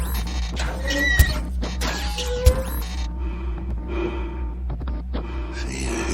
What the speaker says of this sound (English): See, his breathing sounds good.